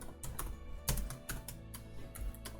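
Computer keyboard keys pressed in quick taps, about a dozen close, crisp clicks in an uneven rhythm, fairly quiet with no talk.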